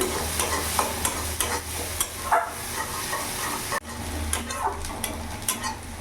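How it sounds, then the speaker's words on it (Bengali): Steady sizzling of onions frying in a pan, with occasional stirring scrapes and clinks throughout. "পেঁয়াজটা একটু ভাজা ভাজা করে নেবো যতক্ষণ না পেঁয়াজের কাঁচা গন্ধটা ভাবটা চলে যাচ্ছে"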